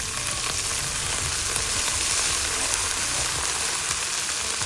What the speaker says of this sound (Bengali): তো ঝোল করার জন্য আমি সেম তেলের মধ্যেই আমি পেঁয়াজ কুচি, রসুন কুচি এবং কাঁচামরিচ দিয়ে ভেজে নেব।